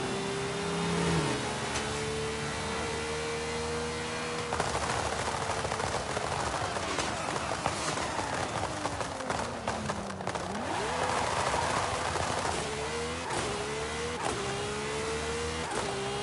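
Fast cars racing in Forza Horizon 5, a continuous loud engine drone with rising and falling revs and pitch sweeps as gears shift, and occasional bumps and impacts throughout.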